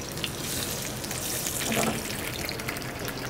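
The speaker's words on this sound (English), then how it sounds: "while that is frying on one side" Arctic char fillets sizzle and crackle steadily in hot extra virgin olive oil, a continuous close hiss with small pops and no talking.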